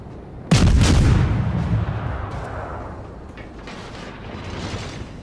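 A torpedo launch in the naval game World of Warships, one loud deep thump and whoosh that rumbles and slowly fades into low ambient sea noise.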